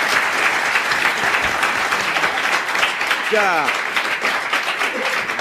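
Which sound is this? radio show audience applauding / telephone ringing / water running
radio show audience applauding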